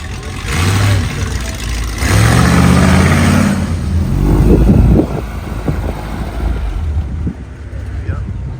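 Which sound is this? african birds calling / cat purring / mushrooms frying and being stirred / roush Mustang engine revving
roush Mustang engine revving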